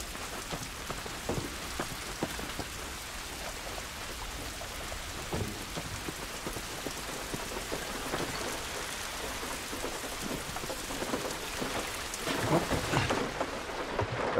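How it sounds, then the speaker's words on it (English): Heavy rain and rolling thunder in The Last of Us on PS3, a dense steady patter of raindrops with low rumbles building louder toward the end, no voices. "This rain ain't gonna do us any good."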